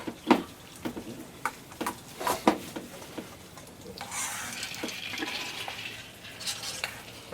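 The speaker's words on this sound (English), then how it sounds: "And mix the rice with all the meat." Rice being stirred into ground meat for stuffed cabbage, with several soft, irregular scraping and squishing strokes in a bowl, followed by a faint, hissy rustle, fairly quiet and with no talk.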